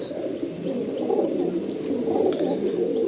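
Regdar pigeons, including a female, coo in a low, rolling murmur under a steady wash of background noise, with a thin high tone drifting through midway.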